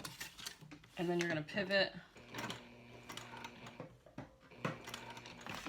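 A sewing machine stitches a fabric seam for a wristlet clutch, a close, whirring mechanical run that stops and starts in short bursts while someone talks over it.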